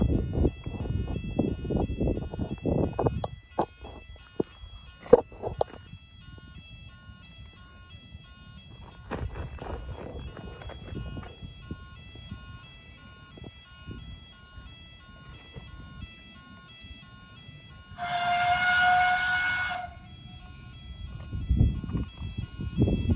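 A rare double-headed train passes Common Lane level crossing in Somerset. Steady warning tones sound throughout, low rumbling comes at the start and end, and a loud horn blast of about two seconds sounds near the end.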